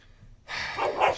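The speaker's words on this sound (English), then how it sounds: "barking right now, he is literally barking at a blanket that scared him." A dog gives a short bark at a blanket that scared it, a single close, loud burst after a moment of near silence.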